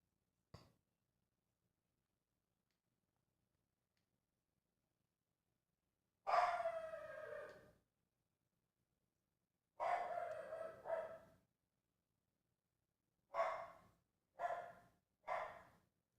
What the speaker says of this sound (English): Wow, my dog's barking up a storm.